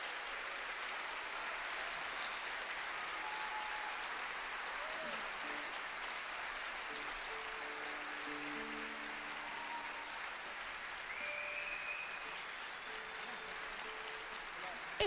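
Audience applause in a tribute to a musician, a steady broadband wash of clapping holding evenly for about fifteen seconds, with faint tonal sounds drifting over it.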